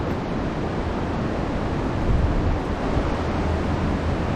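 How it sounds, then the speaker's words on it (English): Strong, steady wind roars outdoors on a stormy day in Main Range National Park at Cunninghams Gap, a dense unbroken rush buffeting the microphone with a low rumble, loud and constant with a brief gust swelling midway. "As you can see, that wind hasn't let up."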